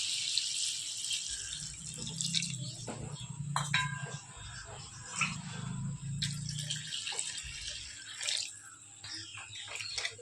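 Water poured into a pot while cooking mushroom rava kichadi, a steady close splashing trickle with small clinks from the pot, lasting throughout at moderate volume.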